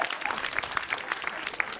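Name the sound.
applause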